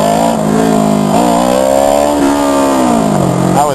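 A motorcycle engine revs loudly and close, its pitch climbing and falling in smooth surges as the rider pulls wheelies.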